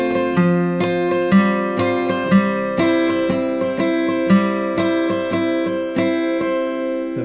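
An acoustic guitar plays a strummed instrumental passage, with steady rhythmic chord strokes, bright and close, with no talking.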